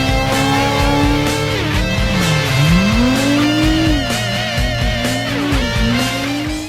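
A tuned Nissan Godzilla R3 drift car in CarX Drift Racing 2 revs hard with its engine pitch rising and falling, while loud tire squeal and skidding run continuously underneath, with no talking.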